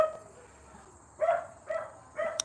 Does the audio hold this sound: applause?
no